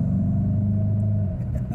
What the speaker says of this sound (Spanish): Y cuando aceleramos solo un poquito más a fondo,